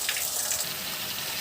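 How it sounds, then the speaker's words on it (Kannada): Water pours steadily into two cups of rice as three cups are added for pulao in a home kitchen, a continuous close gush and splash lasting throughout with no talking. "ಎರಡು ಲೋಟ ಅಕ್ಕಿಗೆ 3 ಲೋಟ ನೀರನ್ನ ಹಾಕೋತಾ ಇದ್ದಾರೆ."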